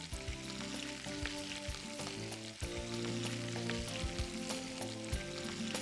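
Ginger and green chilies sizzle in hot oil with curry leaves and red chilies, a dense crackling fry with scattered sharp pops and faint stirring, heard close and without talk.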